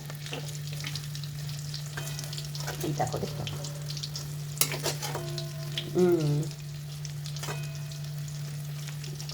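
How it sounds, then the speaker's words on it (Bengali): Pakoras sizzle softly and continuously in oil over a low flame, close by, with brief stirring clatter and a few spoken words. "আমি একদম লো ফ্লেমে ভাজি কারণ পকোড়া সবসময় না লো ফ্লেমেই ভাজতে হয়"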